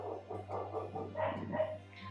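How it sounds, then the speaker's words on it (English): Dogs barking at a neighbour indoors, a run of rapid muffled barks and yips against a steady low hum, moderately loud and unbroken by speech. "my dogs are barking like crazy, barking at my neighbor"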